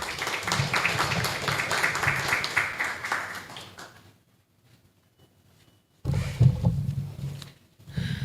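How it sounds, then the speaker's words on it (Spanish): Audience applause following a speaker's introduction at a national public-procurement arbitration essay competition in Peru, a dense burst of clapping that fades out, followed by silence and then another short round of clapping. "Un fuerte aplauso, por favor."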